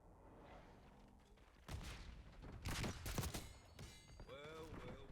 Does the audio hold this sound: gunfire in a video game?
yes